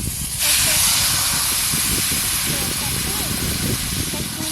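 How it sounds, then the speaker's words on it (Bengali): Water poured into a hot pan of fried pakoras gives a loud, steady hiss of steam that lasts the whole stretch, with faint crackling underneath. "এবার জল দেবো।"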